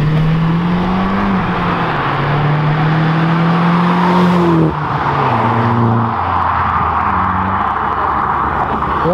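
A Vauxhall Corsa accelerates hard past at an evening car meet: a loud, close engine note climbs steadily through the gears, dips at a shift, then rises again as it pulls away.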